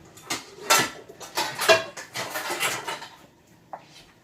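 Pans and foil cookware clatter and scrape close by as they are picked up and set down in a home kitchen, a few quick bursts of handling followed by a quieter knock near the end.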